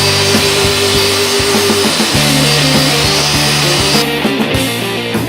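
Geetech 10-inch portable table saw with a 2-horsepower brushless DC motor running, a loud steady whine that shifts pitch around the second and fourth seconds, heard alone without talk.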